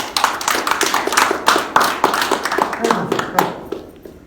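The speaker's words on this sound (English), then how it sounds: "Round of applause, I believe." A small group claps by hand at a street hypnosis show, a short, uneven round of close, sharp claps in loose bursts that thins out toward the end, with a voice talking over it.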